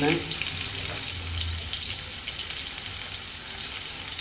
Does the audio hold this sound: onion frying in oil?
yes